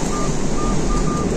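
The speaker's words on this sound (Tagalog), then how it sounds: "Lakas ng hangin." Strong typhoon wind roars in a dense, steady rush that buffets the microphone, loud and continuous with no voices.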